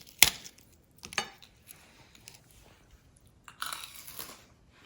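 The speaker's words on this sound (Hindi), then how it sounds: "मैंने आपको तोड़ के तो दिखाया नहीं कि वो कितना क्रिस्पी है" Crisp snapping and crunching as brittle fried papri crackers for chaat break, a sharp crack followed by a couple more crunchy bursts with quiet gaps between.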